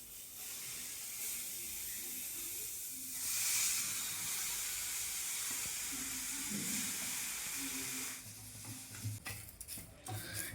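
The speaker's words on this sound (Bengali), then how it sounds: "নিম পাতা এবার আমি এখানে তেল ছাড়াই এটা ভাজবো" Neem leaves dry-roasting in a pan with no oil give a steady, close hiss with rustling stir strokes, swelling briefly and ending in a few sharper scrapes and clatters.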